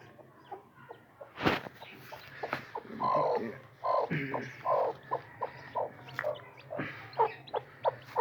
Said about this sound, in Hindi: मुर्गी ने चूजे निकाल लिए हैं।